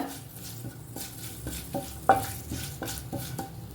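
Curry leaves sizzle in hot oil in a pan while a spoon stirs them in regular scraping strokes. The frying hiss is soft and steady, with a sharper clink partway through, and no one speaks.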